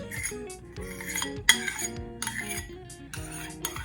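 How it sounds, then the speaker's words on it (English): A utensil scrapes the bottom of a bowl of devilled egg filling with basil, repeated clinking and scraping strokes in an irregular rhythm, close and fairly clear, with no talking. "we're down to the bottom of the bowl here, scraping it up"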